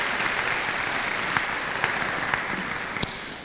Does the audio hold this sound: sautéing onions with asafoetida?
no